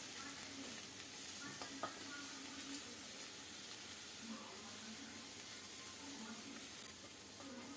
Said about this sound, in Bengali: মশলাগুলো ভালো করে কষিয়ে নেব কিছুক্ষণ নেড়ে চেড়ে কষিয়ে নেওয়ার পর